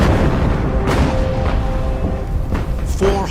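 Warship guns firing shells in a naval battle against the battleship Bismarck, a dense rumbling barrage of heavy booms under a constant low roar, with a faint tonal whine crossing it.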